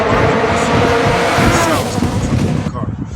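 Close and loud, a Subaru WRX's 2-liter four-cylinder engine gives a deep, rough rumble and a rushing roar that eases and breaks up near the end.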